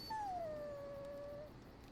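A dog in the Dragon Age: Origins video game gives a single thin, drawn-out whimper that falls slightly in pitch, faint and alone over quiet background ambience.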